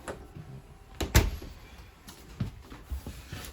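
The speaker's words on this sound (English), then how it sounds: "The accordion door here, so you just got that travel latch, then you just slide it on open." An accordion door in the bathroom of a 2022 Forest River Sunseeker 3050 motorhome is unlatched from its travel latch and slid open: one sharp clack, then light folding rattles, close and fairly quiet.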